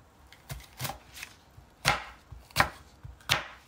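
A knife slices green onions on a cutting board in a few separate sharp chops with short gaps between them, close and clear in a quiet kitchen with no talk.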